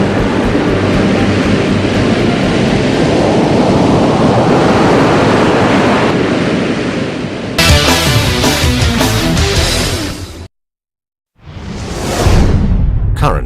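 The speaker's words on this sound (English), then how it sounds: "The crests, which have become unstable, fall forwards and surf is created." Ocean surf crashes in a steady roar of breaking waves, loud and close, with a sharp cut to a short silence before the waves return.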